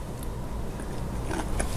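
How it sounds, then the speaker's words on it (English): Close, steady crunching of someone chewing a mouthful of fresh tabouli salad, soft bites layered over a constant low background hum. "You hear me crunching?"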